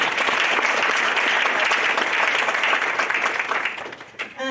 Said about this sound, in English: we can give her a round of applause if you want